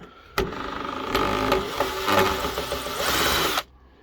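A small powered screwdriver whirs steadily for about three seconds, backing out screws that hold the motor of a bread maker being scrapped, with light clicks and rattles over the drone.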